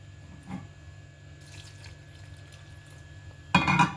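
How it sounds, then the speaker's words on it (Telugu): Water is poured from a small glass into an oats batter, a faint trickle that swells into a short, louder splash at the end in a quiet kitchen. "కొంచెం వాటర్ పోసుకుందాం"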